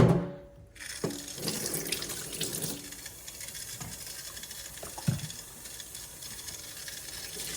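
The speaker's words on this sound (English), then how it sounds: "I'm just going to wash my hands off really quick here." A kitchen sink tap runs steadily as hands are washed beneath it, water splashing and pattering over several seconds with brief shifts in the flow, alone with no talk.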